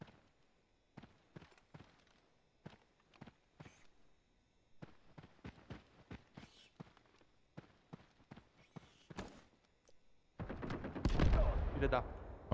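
Bazooka fire from a bot in Call of Duty DMZ: a run of sharp, scattered shots and thuds spaced irregularly, ending in a louder, heavier rumbling blast near the end.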